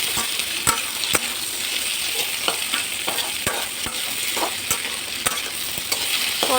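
Potatoes fry with turmeric and salt in a hot pan, a steady crackling sizzle punctuated by regular sharp clicks and scrapes of stirring, with no talk.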